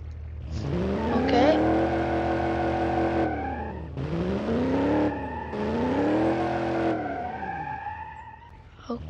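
An old Burnside Special car in BeamNG.drive, its engine rising and falling through repeated revving sweeps, steady and fairly close, with tire noise underneath.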